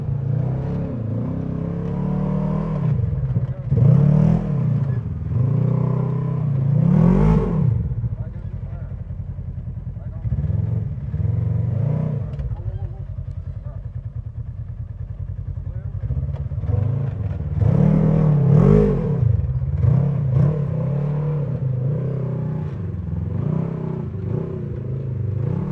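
An off-road vehicle on Maxxis Carnivore tires crawls over rocks, its engine rising and falling in repeated revving surges with some clatter. The engine is loud and close, and there is talk over it.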